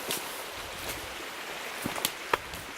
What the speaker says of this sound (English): You can hear the creek now.